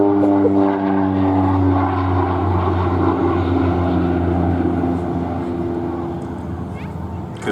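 A North American OV-10 Bronco twin-turboprop flying a display at an air festival, its loud droning engine tone sustained and slowly fading as it passes, with a commentator talking over it.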